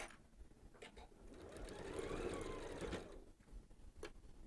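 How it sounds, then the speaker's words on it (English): A sewing machine stitches a holiday stocking, a soft steady whir that speeds up through the middle, quiet and close, with small clicks before and after. "Can you switch the view to the machine? And I just go slowly, take out the clips as I go"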